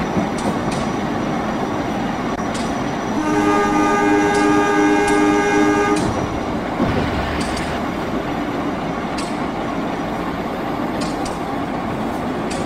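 A train runs straight through Linggapura station at night in Indonesia, heard from the train. It gives a loud continuous rumble, a sustained horn-like tone in the middle, and scattered clanks.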